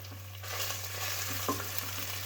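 Tarhana with red pepper flakes and garlic is stirred in a pan, a soft, steady sizzle with light scraping strokes over a constant low hum, close and unaccompanied by voices.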